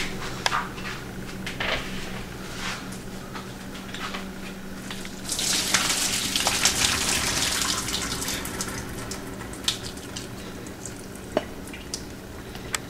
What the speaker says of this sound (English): now we're gonna drain the water from the pasta, causing an exothermic reaction.